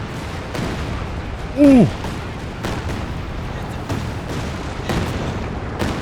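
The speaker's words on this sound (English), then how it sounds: "Here comes the Calliope now. This could be nasty." Calliope rocket artillery barrage in the Company of Heroes 2 video game: a dense rumbling wash of booms and blasts runs across the whole stretch, with a brief excited voice calling out partway through.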